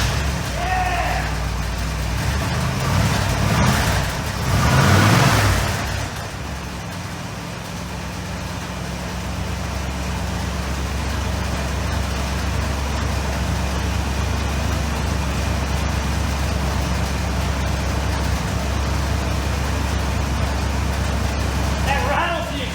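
A 1979 Monte Carlo with a damaged, crushed exhaust idles steadily nearby, its low rumble joined by a continuous rattle, with a brief louder rev early on and a voice speaking over it.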